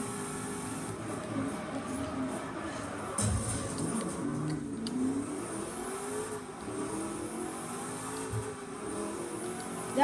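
A Ferrari and a Hennessy race in Forza Horizon, with engines droning and revving along a straightaway and shifting pitch as they accelerate, holding at a steady moderate level throughout.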